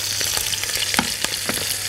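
Lamb neck fries in a pan with a steady close sizzle, punctuated by rapid crackles and pops at irregular intervals, with no speech.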